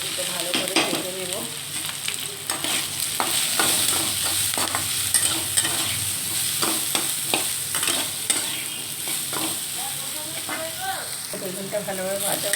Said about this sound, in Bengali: তো এই দেখুন বেগুনটা আমি এটা ভালো করে ভেজে নেব